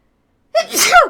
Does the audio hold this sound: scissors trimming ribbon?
no